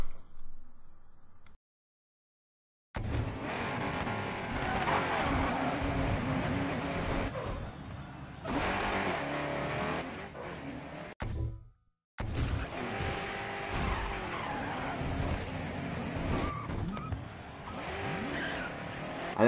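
Cars in a Grid Autosport demolition derby grind and scrape through continuous engine roar, with tire squeals and collision crunches over about twenty seconds, broken by two brief silent gaps.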